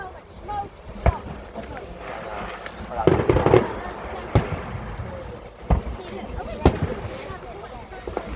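Bonfire Night fireworks on 5 November burst outdoors in a string of sharp explosions, several loud bangs and crackling volleys spaced across the clip, with voices talking faintly between them.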